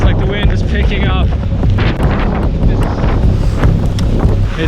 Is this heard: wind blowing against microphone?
yes